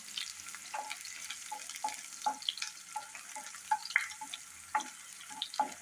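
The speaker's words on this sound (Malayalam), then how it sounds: "ഇനി ഇതിലേക്ക് നമ്മൾ നേരത്തെ ചോപ്പ് ചെയ്ത് വെച്ചിരിക്കുന്ന വെള്ളുള്ളിയാണ് ഇട്ട് കൊടുക്കുന്നത്" Chopped garlic hits hot oil in a pan for dal palak, giving a steady close sizzle with soft scraping stirs and small clicks of a spoon, no voices.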